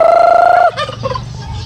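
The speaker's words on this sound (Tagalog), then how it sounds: "hindi ako sinalubong ng aking mga pabo" A turkey gobbles loudly and close by, with a sustained warbling call that breaks into a rapid rattling gobble, then quieter clucking underneath.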